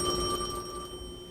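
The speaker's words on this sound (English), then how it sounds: "the phone rang" Telephone ringing with a steady electronic bell tone, one sustained ring heard close and clear over a faint room background.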